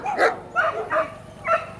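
A protection dog in a Bulgarian bite-work demonstration gives four sharp, loud barks in quick succession, close to the listener, with a slightly yelping edge.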